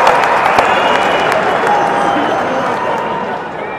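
Crowd applause and cheering at a political speech rally, a dense, steady roar of clapping and voices that holds loud throughout and eases slightly toward the end.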